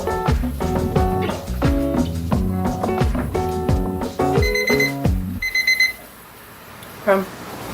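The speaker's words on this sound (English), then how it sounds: "just put on a minute timer" A kitchen minute timer alarm goes off with loud, rapid, repeated electronic beeping for several seconds, then stops abruptly, leaving a quiet room with one faint clatter.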